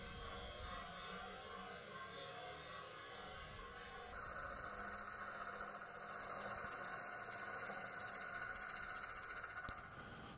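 A lathe turns a butternut wood bowl as the tool cuts toward the centre, giving a continuous dense rumbling whir with a steady grinding texture that changes tone partway through.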